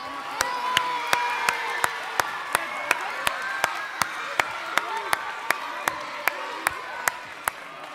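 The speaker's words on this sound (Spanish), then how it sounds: "Venga, un aplauso para todos ellos." Crowd applause at a school gathering, a dense rattle of many hands with regular sharp claps standing out, mixed with cheering and children's shouts.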